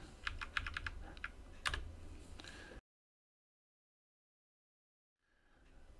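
Fingers tap out a short command on the keyboard of an i386 Acer Aspire laptop, a quick burst of crisp, close clicks that stops abruptly into silence before faint room noise returns.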